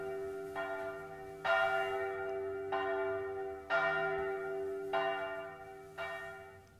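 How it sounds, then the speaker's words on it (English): Church bells ring five or six slow, evenly spaced strokes, each one swelling with a bright metallic clang and then fading over a steady hum, heard from a distance. "what could be nicer than hearing church bells as one walks down King William Street"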